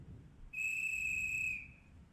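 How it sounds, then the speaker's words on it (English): A single clear, high whistle tone sounds in a video game. It holds steady for about a second, rises out of low background hum and then fades. "Oh, it's a whistle."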